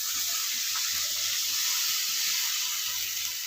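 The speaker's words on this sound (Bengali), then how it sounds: "জল দিয়ে দিচ্ছি," Water poured into a hot pan of fish curry sets off a loud, steady, close hiss and sizzle that lasts throughout, with no voices.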